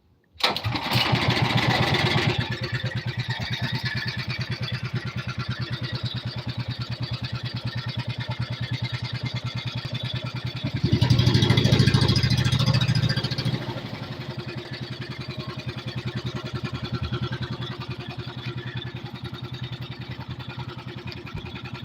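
A boat motor chugs steadily throughout, swelling louder for a few seconds midway before settling back to a constant drone.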